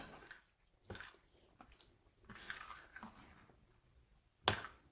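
A seed cracker mixture is stirred in a bowl, giving soft, wet, squishy scrapes at irregular intervals, close and quiet, with one sharper knock near the end.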